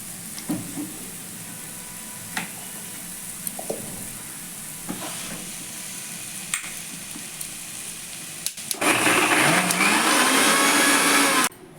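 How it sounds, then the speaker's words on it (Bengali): A mixer grinder whirs loudly, grinding coriander and cumin powder with a little water. Light kitchen clatter comes first, then the motor roars steadily for about three seconds before cutting off. "এবার আমি এটা একটু জল দিয়ে মিক্সিতে গ্রাইন্ড করে নেব"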